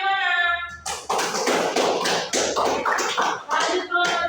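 A classroom of students applauds a group after its presentation with brisk, close, sharp hand claps in uneven bursts, following a brief sung or called-out tone at the start.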